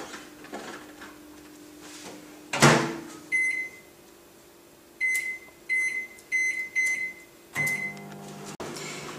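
A microwave oven melting soap base hums quietly, then gives a loud clunk and a run of short, evenly spaced high beeps before a door-like thud; no one speaks.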